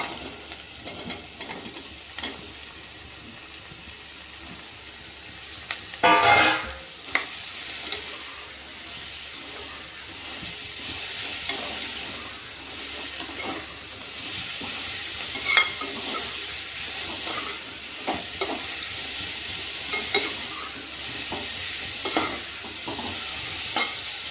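Mushrooms fry in a pan with softened tomato, onion and curry leaves, a continuous close sizzle with repeated stirring clatters and scrapes, no talking over it.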